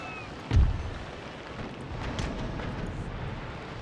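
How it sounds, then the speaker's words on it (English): A distant cannon broadside booms between sailing ships in a naval battle in Empire: Total War, with one deep thudding blast followed by softer rumbling shots and a low, windy background. "Some good shots there off on the Brilliant, though."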